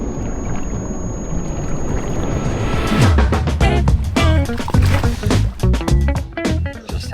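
Packraft paddled on a river during a bikerafting trip, with steady water and wind noise, then rhythmic paddle strokes and splashes growing louder and closer midway through.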